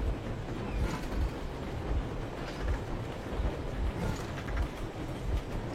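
Moving train in a video game, a steady rumbling roll with faint rhythmic clatter and wind, at moderate loudness with no talking.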